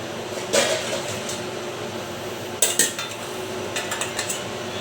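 A metal lid clanks onto a cooking pot of stewing pork buto-buto kaldereta, with one sharp clatter followed by a double rattle as it settles over a low simmering hiss.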